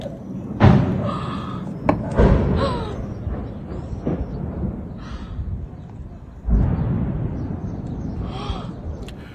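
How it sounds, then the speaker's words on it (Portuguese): Distant secondary explosions at an air base ammunition depot in Crimea thud one after another, sharp bursts followed by rumbling tails, with faint voices murmuring in between. "Dá para ouvir as, as explosões secundárias"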